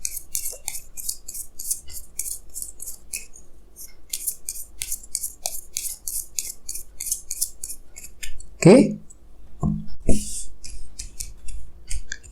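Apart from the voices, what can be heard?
tarot cards being drawn and handled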